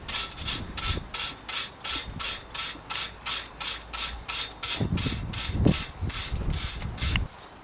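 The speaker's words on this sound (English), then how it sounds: "gotta be honest, I switched to the wire brush." Wire brush scrubbing surface rust off an old bicycle, a steady run of about fifteen rhythmic rasping strokes, close and loud, with some knocking handling noises near the end.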